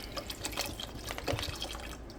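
Water pours and splashes into a pot of herbs on a stove, a faint, brief trickle with a few drips, close by and quiet.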